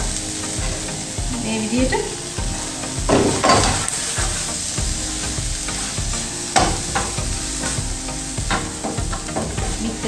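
Tomatoes frying in a pan for a quick noodle dish, sizzling steadily while a utensil stirs and scrapes the pan, close and loud. A few words are spoken.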